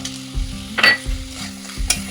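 Spatula stirring a frying mixture of boiled potato, garam masala and fried peanuts in a pan for a vegetable chop, with a few distinct scraping strokes over a low, steady sizzle.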